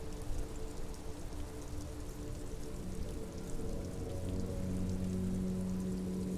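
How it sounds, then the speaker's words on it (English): Rain falls steadily in a video game scene, a soft, continuous patter with a low hum beneath, fairly quiet and with no speech. "Stuck in the rain in a traffic jam"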